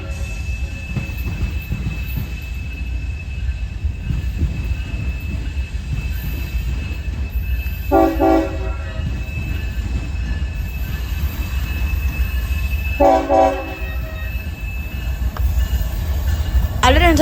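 CSX 1972 freight locomotive rounding a curve, wheels rumbling steadily with two sharp bursts of flange squeal and a horn note rising at the very end, loud and close.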